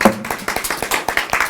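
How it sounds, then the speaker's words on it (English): Audience clapping at a student voting event, a quick run of close, distinct hand claps at a lively even pace, fairly loud and without talk. "And so can we just clap for Abby?"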